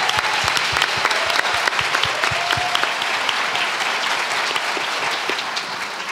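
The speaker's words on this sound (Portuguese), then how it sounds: "eu queria pedir uma salva de palmas de novo para esse trabalho" An audience at an education event claps steadily, a dense wash of many hands with a few sharper individual claps near the front at the start, continuing evenly before tapering slightly.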